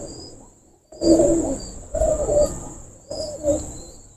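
A golden pigeon coos nearby in three low, rolling phrases about a second apart, against a faint steady high background hiss.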